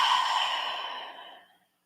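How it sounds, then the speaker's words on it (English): A single slow, deep exhale during a guided breathing exercise, a close breathy sigh that starts strong and fades away to silence within about a second and a half. "Take a few breaths with me."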